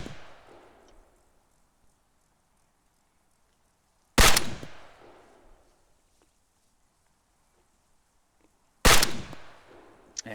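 Two loud, sharp gunshots in ArmA 3 with the MCC mod, spaced several seconds apart, each leaving a long echoing reverberant tail that fades into near silence.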